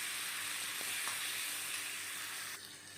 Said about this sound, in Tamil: தக்காளியும் ஓரளவுக்கு நல்லா வதங்கி வரணும்.